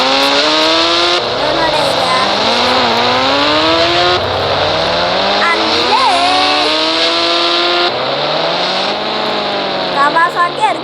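A Kawasaki motorcycle engine revs loudly and close, rising and falling in repeated gear-like sweeps, with voices talking over it.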